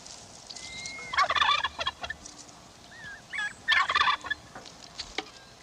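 Turkeys raised for food by the Tarahumara gobble in two loud, rapid bursts, with softer calls and chirps between them against a quiet outdoor background.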